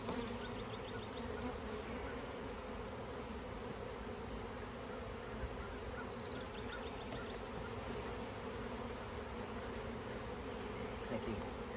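A dense, steady drone of many honeybees buzzing close by, continuous throughout with no pauses and no talking.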